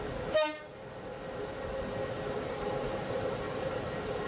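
Romanian railways locomotive arriving at a station to couple onto carriages, with a short, loud horn toot at the start followed by a steady rumble of rail movement.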